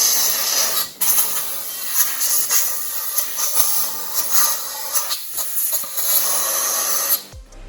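Compressed air blasting through car fuel rails in a series of loud hissing bursts, several short pauses between blasts and a thump at the end.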